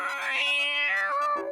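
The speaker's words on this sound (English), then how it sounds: "I shapeshifted my finger into a cat!" A cartoon cat gives a drawn-out, tonal meow with a wavering pitch, clear and close, sounding alone without any talk.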